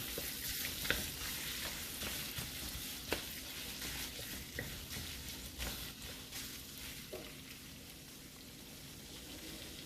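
Chicken pieces sauté in a pan for chicken fried rice, a steady frying hiss broken by the sharp clicks and scrapes of a spatula stirring at irregular intervals, close but fairly quiet, no speech.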